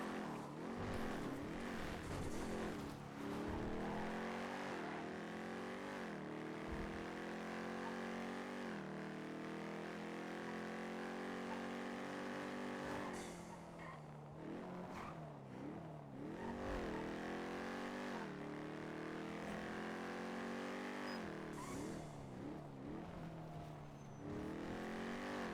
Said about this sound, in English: I do have a speeding motorcycle eastbound on Joshua passing the Staff City entrance.